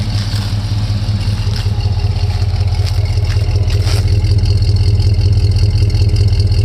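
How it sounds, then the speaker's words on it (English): A 1979 Chevy C10 pickup with a rusty body runs just after a cold start, its engine a loud, steady low rumble with faint ticking clatter on top, no voices over it. "I just love the sound of this old truck."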